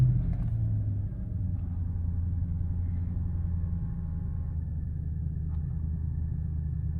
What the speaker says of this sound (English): I'm gonna turn the car on just to make sure.